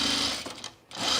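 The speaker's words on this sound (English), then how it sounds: "I'm gonna backstitch" A sewing machine backstitches a seam on a dress, whirring steadily up close, then stopping briefly before it runs again.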